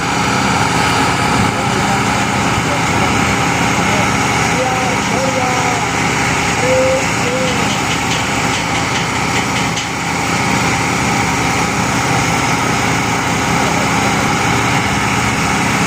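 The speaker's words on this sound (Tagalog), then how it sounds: "At gumagana ngayon ang kanilang generator. Gawa ng nagwi-welding sila guys." A generator powering welding work at a parking construction site runs loud and steady throughout, a constant high engine drone with brief faint chirps, while people talk over it.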